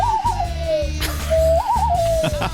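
A person's voice mimics an owl's hoot with two wavering, sliding tones over a steady low background hum, each call warbling before trailing off.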